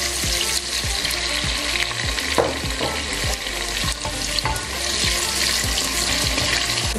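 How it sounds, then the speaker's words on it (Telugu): Chopped onion frying in a pan, a loud continuous sizzle with steady crackle and repeated stirring scrapes, close and unbroken, with no talk. "ఒక పెద్ద ఉల్లిపాయ అండి, ఇది ఆనియన్ కట్ చేసి పెట్టుకున్నాను. ఇది ఫ్రై చేస్తున్నాను."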